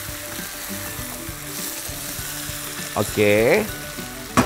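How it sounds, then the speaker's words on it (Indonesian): Beef ribs sizzle and fry in a cooked, fragrant spice paste for betutu, stirred in the pan with steady crackling, a brief scraping rise near the end, and a short spoken word. "Kita akan masukkan iganya. Nah, seperti ini. Saya aduk dulu sebentar."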